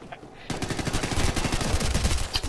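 Rapid automatic gunfire from a multiplayer shooter game match on the Rig map erupts after a brief quiet moment, dense overlapping bursts of shots continuing loud and close.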